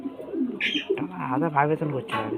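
A pigeon cooing close by in a loft, a few soft throaty coos over about two seconds, mixed with a voice.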